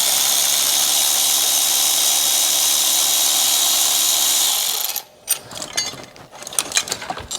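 A loud power tool runs steadily for about five seconds while removing a stud nut on a BMW N54 engine, then stops and gives way to clattering and ratcheting sounds of handled parts.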